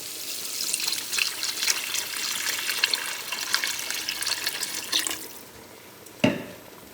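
Water pours into a pot of étouffée as it cooks, a continuous splashing, trickling stream that fades out, followed by a single sharp clunk near the end.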